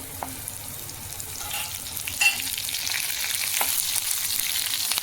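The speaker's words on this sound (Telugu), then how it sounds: "వెల్లుల్లి కొంచెం వేగినాక కరివేపాకు రమ్మ వేసుకుందాము" Garlic frying in a pan while making dosakaya tomato chutney, a steady close hiss of sizzling oil with a few light utensil clicks and scrapes, no voices.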